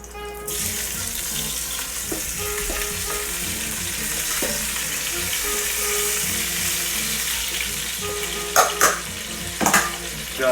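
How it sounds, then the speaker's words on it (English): Potatoes fry in a hot pan for a Lyonnaise dish, with a loud, steady sizzle throughout. A few sharp clinks and scrapes come near the end, and no voice is heard. "we're going to add half of these potatoes to the pan"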